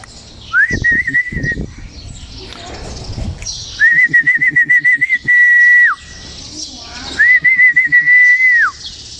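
Stray pigeons are heard along with three long steady whistles, each followed by short pulsing chirps and coos, loud and close with quiet gaps between.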